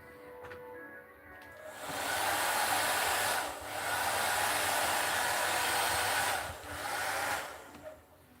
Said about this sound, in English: I'm just gonna hairdryer over here